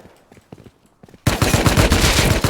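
Rapid automatic gunfire from the survival video game Rust erupts suddenly at full loudness after a quieter stretch of scattered, fainter shots, continuing as a dense, sustained burst.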